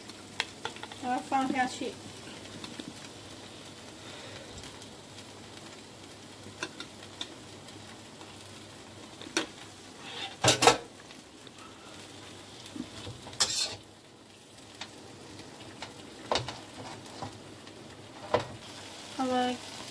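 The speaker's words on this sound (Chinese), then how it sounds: "然后炒，炒到有那个味道， 放进牛油。" Vegetables stir-fry in butter in a pan, giving a steady soft sizzle broken by sharp scraping stirs and clinks of the utensil, while someone talks quietly over the cooking.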